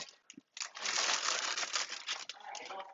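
Whole chickens are stuffed into a bag for wood-fired enchiladas, the bag crinkling and rustling loudly in a close, continuous burst after a few brief handling noises.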